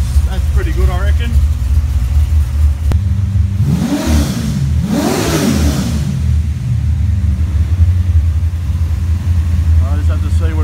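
A Chevrolet 350 V8 with a freshly rejetted carburetor idles with a steady low rumble, swelling briefly in a couple of blips around the middle before settling back to an even idle.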